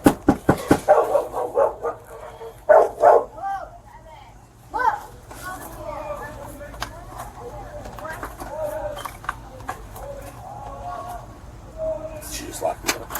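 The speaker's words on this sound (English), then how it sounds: "Is there a dog in here?" A dog barks indoors in a cluster of sharp barks near the start, followed by scattered yips and whimpers under ongoing conversation between people.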